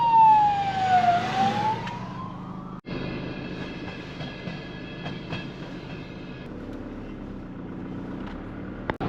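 Ambulance siren passing on a road in winter, a loud wailing tone sweeping down and up, then cut off and replaced by steady engine and road hum with faint tonal whine; no talk.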